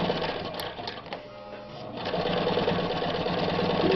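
A Japanese-made Riccar sewing machine stitches through several layers of heavy bottom-weight fabric, a steady close mechanical whir that slows briefly, then picks up and runs continuously.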